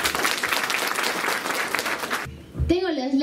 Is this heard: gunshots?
no